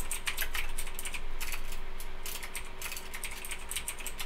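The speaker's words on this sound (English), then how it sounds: "I can't type today." Quick bursts of keystrokes on a computer keyboard, close and crisp, patter irregularly over a steady low electrical hum.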